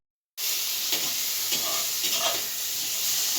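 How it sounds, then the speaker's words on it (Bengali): Eggs fry in a pan with a steady, close sizzle and hiss that starts abruptly and continues without a break, with faint stirring ticks beneath and no voices. "আর এখানে ডিম ভাজা হচ্ছে"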